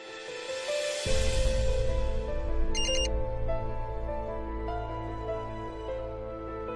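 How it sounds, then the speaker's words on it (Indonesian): A mobile phone sounds a text-message alert at night in a quiet room, a melodic electronic ringtone with sustained tones and a brief brighter chime partway through. "malam-malam gini siapa yang SMS?"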